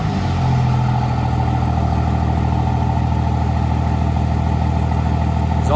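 A 1978 Chevy K20 truck engine, freshly installed, runs at a steady, loud idle with a deep, even rumble and no voices.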